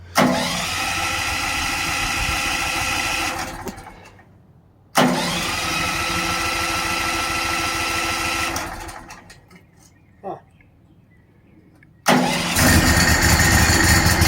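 A portable sawmill's gas engine starts up outdoors on a homestead, running loud and steady before cutting out, restarting, sputtering briefly, then catching again with a strong close roar; there is no talking.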